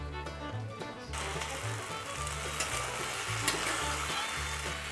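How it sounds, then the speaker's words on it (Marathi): Salt, red chili powder and pepper being stirred in a hot pan for a potato dish: after a quiet second a continuous, bright sizzle takes over with light scraping, under a low steady hum. "थोडंसं लाल तिखट आपण मिरपूड घालणार आहोत आता हे सगळं छान हलवून घेऊयात"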